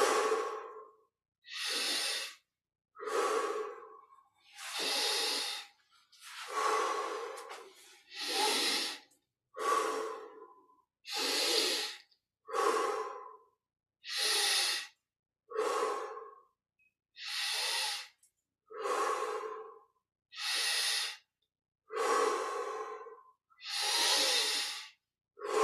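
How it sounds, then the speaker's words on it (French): Slow, deep breaths during a Kriya Yoga meditation, each inhale drawn through the nose and exhale released through the mouth, repeating evenly about a dozen times, close and clear against silence. "On inspire par le nez."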